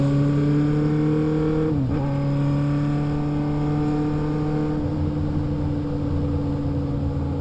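A Honda Hornet motorcycle engine running steadily and loud up close, with a sustained idle hum, a brief dip in pitch partway through, then continuing on as the bike sets off.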